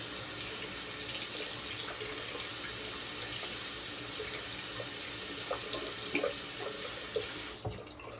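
Hot tap water runs steadily into a bathroom sink as a razor blade is rinsed, with a close, constant splashing flow and faint clinks that stop abruptly near the end.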